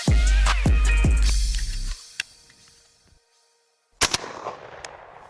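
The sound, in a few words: gunshots while shooting skeet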